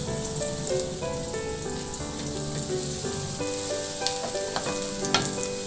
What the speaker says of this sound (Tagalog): Maglagay ako ng mantika sa kawali at igisa na rin yung bawang.